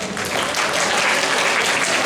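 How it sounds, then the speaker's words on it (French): Steady audience applause at a Kamoplay 2025 event, dense continuous clapping filling the whole stretch at an even, fairly loud level with no clear voices over it. "Alors, on va l'applaudir"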